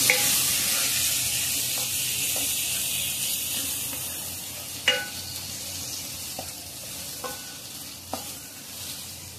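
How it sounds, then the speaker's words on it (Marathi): A soft, steady sizzle of cashews sautéing in masala in a pan, with a few scattered scrapes and taps from stirring. "छान काजू परतून घेऊया मसाल्यामध्ये"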